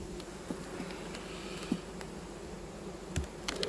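Honey bees buzzing at a beehive in a queenless colony, a soft continuous drone with a few brief nearer passes, no talking.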